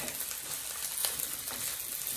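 Chicken fried rice sizzling and frying in a pan, a steady close hiss and crackle with faint stirring, no talking.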